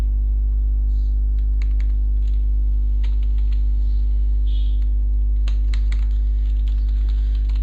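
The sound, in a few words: typing on a computer keyboard in a word processor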